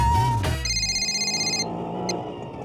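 A phone call ringing out over speakerphone in a shop, a repeating electronic ring tone pulsing steadily after a brief opening burst, fairly close and clear with no talking over it.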